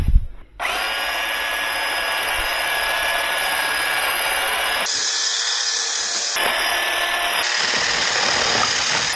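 A WILD BADGER 40V cordless hedge trimmer runs outdoors cutting palmettos, its loud, close motor buzzing steadily with brief dips and surges as the blades bite.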